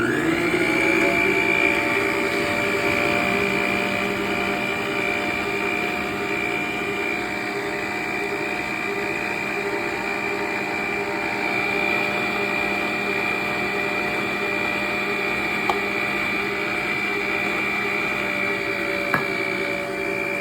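An electric mixer beats sugar and lard for homemade donut dough, giving a loud, continuous whirring motor whine with a steady hum that holds unbroken throughout.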